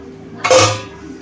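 A lid lifted off a cooking pot used for baking a plum cake without an oven: a single short metallic clatter and scrape, close and fairly loud, then quiet.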